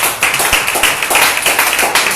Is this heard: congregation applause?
yes